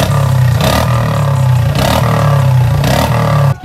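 Royal Enfield Meteor 350 motorcycle fitted with an aftermarket exhaust revving hard, a loud, close, continuous throbbing roar with rhythmic surges, cutting off at the end.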